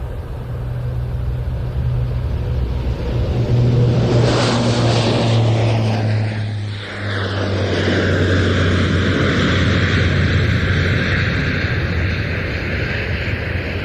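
A Royal Canadian Air Force Hercules turboprop at Prestwick rolls for takeoff at an air show, its loud engine drone building with a rising whine and a Doppler-like pitch shift as it passes, then sustaining a steady roar.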